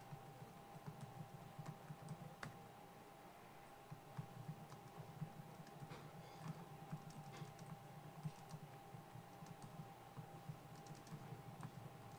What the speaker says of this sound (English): I'm going to type it here for you, Patrice.